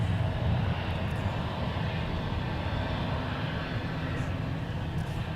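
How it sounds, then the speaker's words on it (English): Airbus A321 engines at Minneapolis–St. Paul airport as the jet crosses a runway, a steady broad roar with a low hum that holds throughout at moderate distance. "Got another aircraft crossing 12 right."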